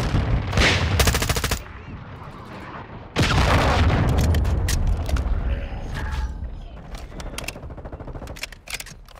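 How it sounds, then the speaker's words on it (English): Cruise missile strike in Call of Duty Modern Warfare II, heavy explosive bursts and rattling gunfire in sharp loud clusters, with a big blast around the middle followed by scattered crackling impacts and battle noise. "Friendly cruise missile inbound."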